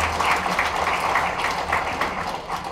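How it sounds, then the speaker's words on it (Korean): Audience applause at a Microsoft Enterprise Conference 2012 keynote, a steady wash of many hands clapping through the whole moment at moderate loudness, with no talk over it. "박수가 자발적으로 나오시는 거 보니까"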